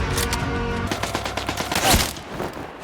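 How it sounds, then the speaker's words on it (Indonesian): A rapid burst of gunfire rattles through a dense, noisy film soundtrack, shots layered over rumbling background sound. "Paul pun harus tewas setelah terkena tembakan oleh Von tepat mengenai kepalanya."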